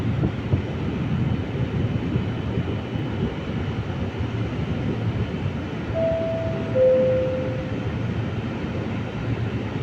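Trenitalia regional train 17190 from Venezia Santa Lucia at Padova station gives a steady, broad rail rumble with wind buffeting, and a brief high tonal squeal midway; no talk.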